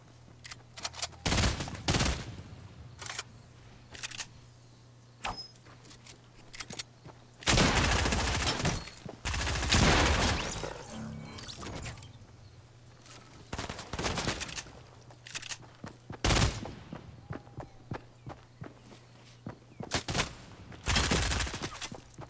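Gunfire rings out in Fortnite: scattered single shots and rapid bursts, some loud and close, others sharper and brief, spaced irregularly with quiet gaps between.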